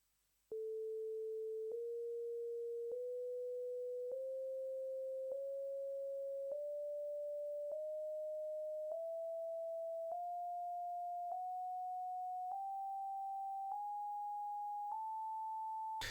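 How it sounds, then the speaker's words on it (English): Pure sine tones climb a just-intonation scale in the key of A, about thirteen steady, evenly spaced notes, each rising slightly above the last, clean and alone with no other sound. "play a scale in the key of A with just intonation, and it will all sound wonderful."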